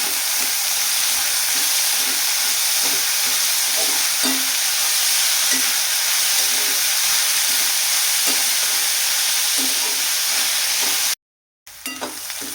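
Vegetables sizzle and fry in oil with turmeric while being stirred, a steady loud crackling hiss with soft scraping stirs, cutting out briefly near the end before resuming.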